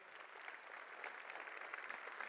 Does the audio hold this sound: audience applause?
yes